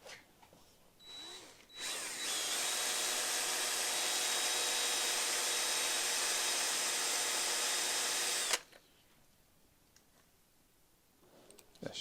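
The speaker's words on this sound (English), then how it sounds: "I'm just going to show you what happens when you drill it out real quick" A power drill whines at a steady high pitch for several seconds while drilling out an Allen bolt on a Subaru EZ30 engine, starting up after a few clicks and stopping abruptly, followed by quiet handling noises.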